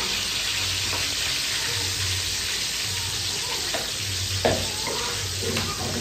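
Chicken karahi sizzles steadily in a pan while being stirred, with a continuous frying hiss, periodic scraping strokes and a brief clatter, close and moderately loud with no talk.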